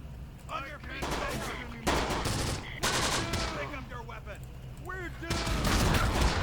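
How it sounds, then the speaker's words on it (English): Mortar and small-arms fire crackle in Close Combat: The Bloody First, with dense bursts of gunfire and impacts in repeated clusters through a steady battle din, along with radio-like voices and game chatter. "Start firing with the mortars."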